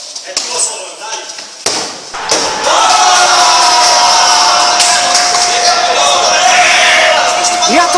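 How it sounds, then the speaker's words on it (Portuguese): Football crowd at the grand final of the EAC cheering loudly and continuously, a broad roar that swells after a brief quieter moment and holds steady, with a commentator's voice over the top. "E a torcida vibra!"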